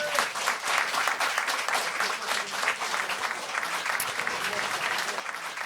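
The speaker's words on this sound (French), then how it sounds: "Ah, on peut l'applaudir!" An audience at a live fan event applauds a guest named David, a continuous burst of many hands clapping with a few voices mixed in, fairly close and steady before easing slightly.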